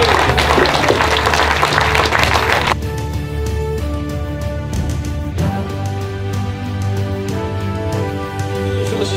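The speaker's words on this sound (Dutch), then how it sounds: "groot applaus voor Willy Klein Hokemoor." Loud audience applause at a club association day, filling the first three seconds before music takes over and carries on to the end.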